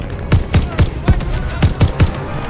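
A weapon fires in Call of Duty: Vanguard gameplay, seven sharp, punchy shots spaced at a fairly regular semi-automatic rhythm, loud and close with brief decays between them.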